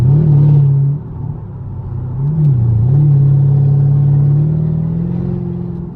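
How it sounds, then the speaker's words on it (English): Chevrolet Camaro SS with a 6.2L V8 cruises on a highway, its exhaust a loud, steady low drone heard from inside the car, dipping briefly as the throttle eases, then swelling again with a slight rise in pitch. "My exhaust sounds so crazy."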